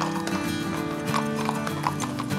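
Police cavalry horses clip-clop with steady, close hoofbeats on pavement, a whinny rising briefly among the steps, with no talk over them.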